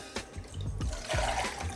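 Turkey stock poured from a measuring cup, a steady close liquid splash with a few gurgling surges over nearly two seconds.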